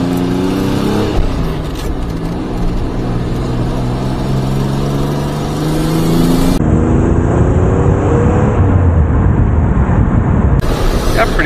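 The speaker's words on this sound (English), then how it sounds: "Got pretty good acceleration." Pontiac Fiero GT engine pulling hard through the gears from inside the cabin, its droning pitch climbing steadily, dropping at a shift and climbing again, loud and continuous.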